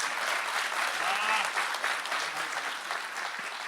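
An audience at a Hindi poetry recital breaks into sustained applause, a dense, steady wash of clapping throughout, with no speech over it.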